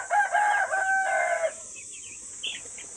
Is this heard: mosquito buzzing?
no